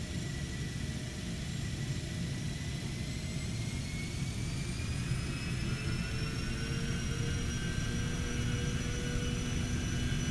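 Steady jet engine roar and runway rumble of a PMDG 737-800 on its takeoff roll at Washington DC in Microsoft Flight Simulator, continuous and even with rising whine tones, no talk.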